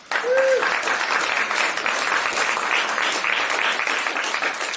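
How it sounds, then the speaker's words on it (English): An audience bursts into steady, dense applause that fills the room and holds at an even level, with a brief voice audible at the very start. "Please give yourselves a round of applause."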